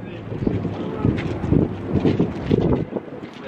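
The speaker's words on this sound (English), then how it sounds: "the wind is so crazy" Strong outdoor wind buffets the microphone in gusty, rumbling bursts on a city street, while people talk over it.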